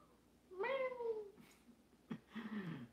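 A cat meows close by: one long, drawn-out meow, then a short chirp and a second shorter meow, all clear against a quiet indoor background.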